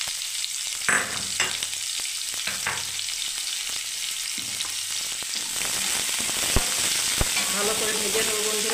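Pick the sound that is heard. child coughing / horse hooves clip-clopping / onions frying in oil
onions frying in oil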